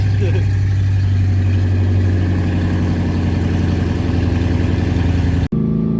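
A straight-piped V8 Ford Mustang cold start, idling loud and rough with a deep, steady rumble close up, cutting off abruptly near the end.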